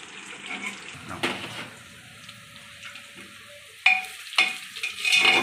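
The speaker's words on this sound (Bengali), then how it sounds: "এই দেখেন আদাটা রসুনটা 5 মিনিট ভেজেছি" Garlic and ginger frying in a pan for mutton curry, with a soft steady sizzle and stirring scrapes, and a few louder clatters and bursts near the end.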